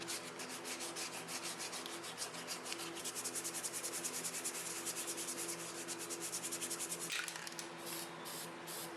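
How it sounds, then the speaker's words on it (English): Rapid, rhythmic rasping of 120-grit sandpaper rubbed back and forth on a wooden wall mount, rounding its edges, close and continuous, with a slight change in stroke near the end. "Starting with the 120, get all the sides of the wall mount and round over the edges"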